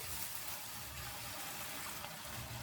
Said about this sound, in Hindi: और अब इसमें पानी डाल देंगे।